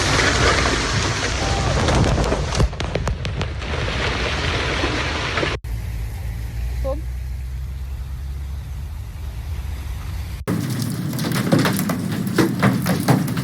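A violent hailstorm in Germany with giant ice balls pounding city streets, a dense, constant roar of clattering impacts across three short stretches, loud and close, with no voices.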